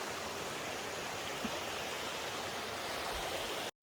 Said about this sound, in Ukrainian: Ось він, Нарінецький водоспад.